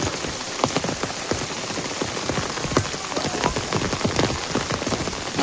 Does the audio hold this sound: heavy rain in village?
yes